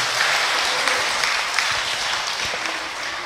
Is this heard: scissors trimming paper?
no